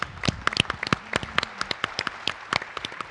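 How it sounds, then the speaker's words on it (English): A breakfast-event audience at a women-in-technology gathering gives sparse, uneven clapping, with separate claps standing out at close range. "Tella, a big round of applause."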